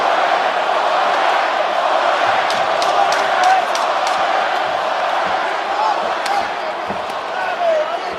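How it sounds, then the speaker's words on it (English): An arena crowd at a professional MMA fight between Jorge Masvidal and Colby Covington roars steadily in support of Masvidal late in a round, a dense continuous wall of cheering and shouting with a few sharp slaps and thuds. "Pro Masvidal crowd voicing their support late in the round."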